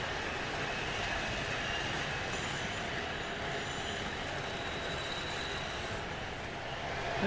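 Small trains run along rails close by, a steady continuous rumble of wheels and track noise that holds level throughout, with no voices over it.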